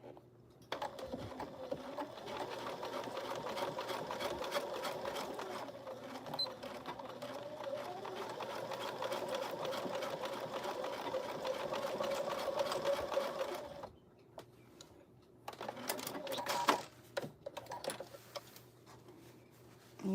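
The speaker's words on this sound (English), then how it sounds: "I'm just gonna reinforce stitch over that, and we'll do some back stitching too" A sewing machine reinforce-stitches and back-stitches fabric for a neck pillow, running in a steady, close mechanical whir for about fourteen seconds before stopping, then a few short bursts and clicks.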